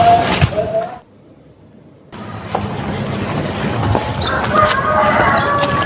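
Chickens clucking with a rooster nearby, over a steady outdoor background with passing traffic noise; a brief quiet gap interrupts the sound early on.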